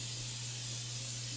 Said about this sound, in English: some pure oil cooking spray. That's just gonna help the noodles not to stick.